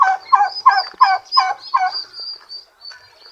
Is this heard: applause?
no